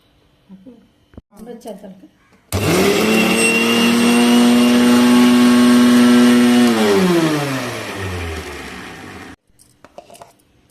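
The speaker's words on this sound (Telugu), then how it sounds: "దీంట్లో చెక్క లవంగాలు రెండు మిరియాలు ఎలకే వేసుకొని మిక్సీ పెట్టేద్దామండి" A kitchen mixer grinder runs on coconut, cinnamon, cloves, peppercorns and cardamom, its loud motor whine holding steady for several seconds before winding down and stopping, with brief talk just before and after.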